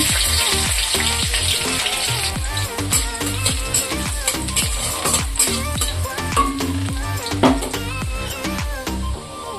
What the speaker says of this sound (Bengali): ওই কড়াইয়ের মধ্যে আবারও সাদা তেল দেব, অল্প আদা কুচি দেব, অল্প রসুন কুচি দেব